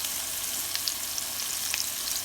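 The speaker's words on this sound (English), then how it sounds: "Okay, steak number 2 is in the pan." Steak searing in a hot pan, a steady loud sizzle and fry that fills the clip, with scattered sharper pops of spattering fat.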